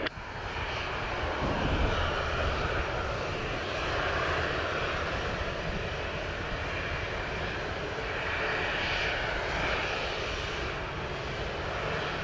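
A Sunwing airliner back-taxis on runway 25 at Montego Bay, Jamaica, its engines giving a steady, loud, continuous jet whine and rumble heard from nearby throughout, with no talk.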